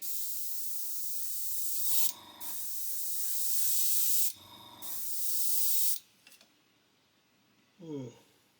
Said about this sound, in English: So I'm going to do a little test spray in the booth.